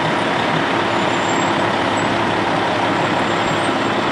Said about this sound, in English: Lots of vehicles.